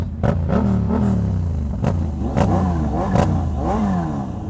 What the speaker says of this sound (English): Even with like a cheap exhaust, it sounds pretty good.